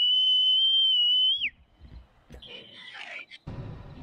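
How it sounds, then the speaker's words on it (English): A single steady, high whistle held for about a second and a half, then cut off, followed by quieter scuffling and faint voices. "Whistle then."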